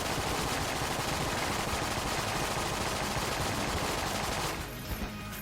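Continuous rapid gunfire from a shooter video game, Enter the Gungeon, a loud dense barrage that holds steady and then cuts off abruptly near the end.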